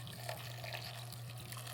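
Hot water streams steadily into a Vevor 3L ultrasonic cleaner holding bicycle parts, a continuous close splashing fill with no talk.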